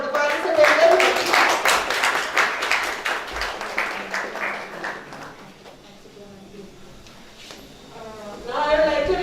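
An audience at a sports event claps steadily for several seconds, loud and dense, then fades as a voice begins speaking.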